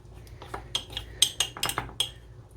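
A spoon clinks repeatedly against a mug while mixing chocolate chips into cookie dough, a series of close, bright taps and scrapes at an irregular rhythm.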